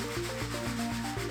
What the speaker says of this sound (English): sanding by hand is the way to go